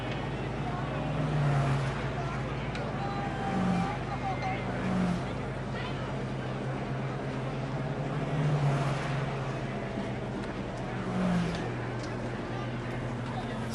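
Vintage racing cars at the 1953 Dunedin road race on a street circuit, engines droning steadily at a distance with swells as cars pass, under a crowd murmur and a commentator's voice.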